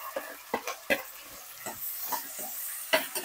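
Onions, green chilies and curry leaves fry in a pan for mutton kurma, with a faint sizzle broken by a series of sharp, irregular stirring scrapes, and no talking.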